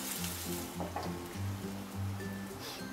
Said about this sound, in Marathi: कांदा चांगला लाल असा भाजून घ्यायचा।